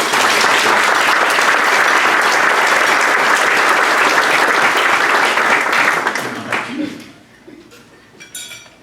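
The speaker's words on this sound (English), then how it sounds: "Let's all give a big round of applause." An audience at a Rotary club meeting claps in loud, sustained applause for about six seconds, then it thins and fades out, with faint clinks of dishes and cutlery in the room.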